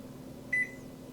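A single short electronic beep from the control panel of a Panasonic NN-SC67NS 1.3 cu ft inverter microwave, clear and close over a quiet room hum.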